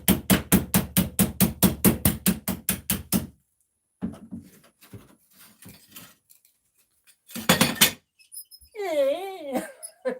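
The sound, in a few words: chisel hammered to break a door hinge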